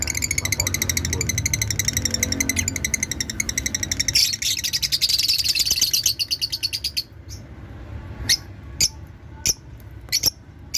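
Pet lovebirds, including a Pale Fallow hen and Opaline varieties, chirp in rapid high trills and repeated tweets, loud and close, thinning into sparse separate chirps toward the end.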